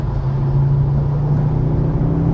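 Ford Focus ST, tuned past 225 brake horsepower, accelerating in fourth gear with a steady loud droning engine note and road rumble from inside the cabin, no voices.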